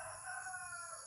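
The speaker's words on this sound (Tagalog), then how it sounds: "Bakit maingay itong manok na to?" A chicken calls out continuously across a short stretch, a nasal, drawn-out squawk close by, with no talking.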